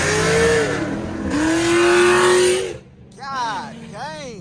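A stage 4 cammed Chevy SS engine revs hard as its wheels spin, loud and close from inside the car, with voices talking over it before the revving fades.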